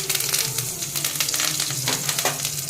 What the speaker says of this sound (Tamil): ஸோ கருவேப்பிலையை வதக்கி விட்டுறோம்.